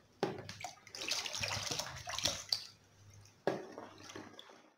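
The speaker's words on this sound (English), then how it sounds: "we're still pouring more of the IPA" Isopropyl alcohol is poured into a container while making homemade disinfectant, a close liquid splashing and trickling that runs for a few seconds, pauses briefly, then resumes.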